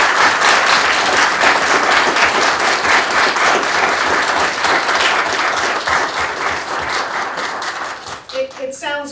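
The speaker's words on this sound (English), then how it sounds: "Let's give them a round of applause" An audience applauds students at a graduation event, a loud sustained round of clapping that fills the room and tapers off near the end as a few voices and a brief tone come in.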